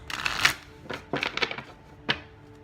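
A deck of tarot reading cards is shuffled in a few quick riffling bursts, the last one a single sharp snap, all close and moderately loud without talking.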